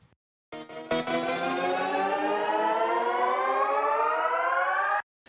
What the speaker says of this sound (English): now we've got our little riser